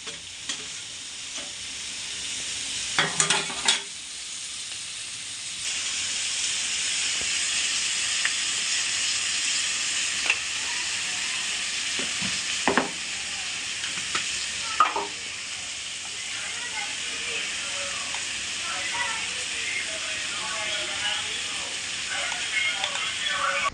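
Tomatoes with chili powder sizzle and hiss steadily in a hot pan for a fish curry masala, with occasional clinks and stirring scrapes from a utensil throughout.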